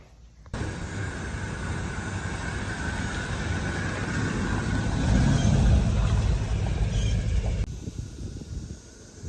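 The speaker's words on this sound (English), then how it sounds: "We're gonna take this thing out and do a first drive on it." A 1973 Chevrolet K5 Blazer pulls away on its first drive, a steady broadband engine and road roar that swells midway and then cuts off, with no talk over it.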